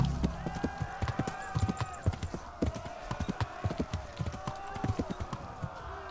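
Horse hooves clip-clop at a steady, close rhythm as a rider travels on horseback in the video game Kingdom Come: Deliverance, with a brief whinny in the mix.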